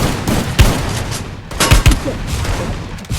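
Gunfire in Free Fire, several sharp close shots in quick bursts over a noisy, steady game background, loud and punchy.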